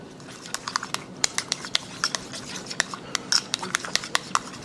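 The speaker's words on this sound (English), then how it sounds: "and mix it up together" Sriracha gets stirred into mayonnaise in a bowl, a run of quick, light clicks and taps from a utensil against the dish, soft and close over a faint background.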